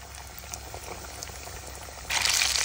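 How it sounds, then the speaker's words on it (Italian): Vegetarian Scotch eggs fry in oil heated to 170–180 °C, a steady fine crackle and sizzle that suddenly swells louder and brighter near the end, with no voices. "Portiamo l'olio tra i 170 e i 180 gradi e friggiamo."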